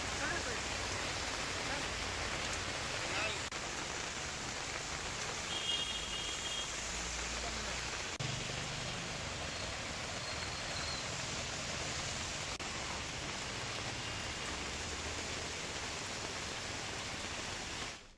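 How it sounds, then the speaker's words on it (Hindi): Rain pours down steadily in Bilaspur, Chhattisgarh, a dense, even hiss of falling water heard close and loud for the whole stretch, with no voices over it. "इधर बिलासपुर में बारिश का दौर फिर शुरू हो गया।"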